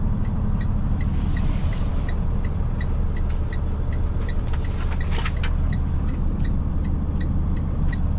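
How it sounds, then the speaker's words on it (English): Heavy road traffic streams past a busy signal-controlled intersection, a loud, continuous engine-and-tyre rumble with no gaps and no voices. "Okay, there's so much traffic here."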